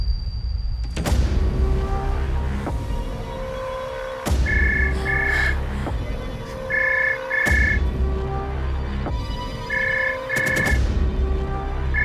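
A telephone rings unanswered at home, repeating paired electronic ring bursts at steady intervals over a low throbbing drone and occasional dull thumps.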